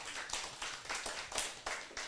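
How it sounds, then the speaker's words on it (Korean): A church congregation claps together in a burst of fairly distant applause, with irregular overlapping claps that rise and fall over a couple of seconds. "박수 한번 쳐주시죠."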